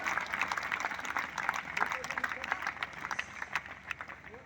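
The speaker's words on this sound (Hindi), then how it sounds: "जोरदार तालियों से अभिनंदन करें मेरे सभी दोस्तों का। जोरदार तालियां।" Scattered, fairly light clapping from a crowd patters along, with murmuring voices mixed in under it.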